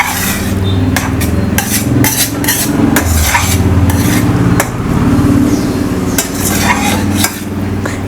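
Roasted cashews being stirred into a thick mixture in a pot, with loud, close scraping and knocking of a spoon against metal in an irregular rhythm, and no talking.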